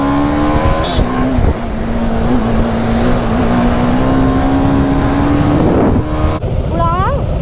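City road traffic in Chandigarh rumbles steadily nearby: a droning vehicle engine holds a constant tone with passing noise around it, and a sharp rising whine cuts in near the end.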